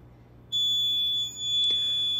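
Smoke-detector-style alarm tone sounds during a fire alarm test of a Notifier NFS2-3030 system with L-series devices at a new middle school, a loud steady high electronic tone starting abruptly and holding, briefly dipping, over low hum.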